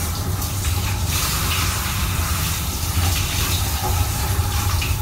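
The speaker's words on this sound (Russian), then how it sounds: "для меня первый раз, конечно, принимаю душ в поезде" A shower runs inside a moving train compartment on a train to Crimea, its steady hiss of water blending with the constant low rumble of the rail car, loud and continuous throughout with no talking.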